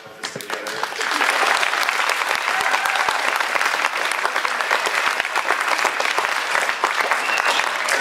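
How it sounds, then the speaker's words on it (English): Big round of applause from a crowd in a school gym during an elementary school assembly, building after a quiet first second and then staying loud and steady to the end. "give Mrs. Neves and all her helpers a big round of applause"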